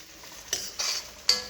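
Onion pieces dropped into hot oil with turmeric powder for a chicken fry, giving a faint steady hiss broken by three short bursts of stirring and sizzle, with no voices.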